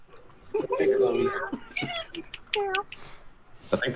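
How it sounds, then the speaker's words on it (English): A pet cat gives a few short meows between people chatting, the cat's calls mixed into the close talk during a tabletop game session. "I hear kitty."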